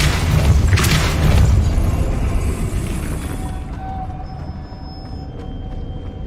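In Hogwarts Legacy on PS5, a Depulso spell sets a platform spinning with a loud, heavy rumbling boom that swells briefly and then fades into a low mechanical drone.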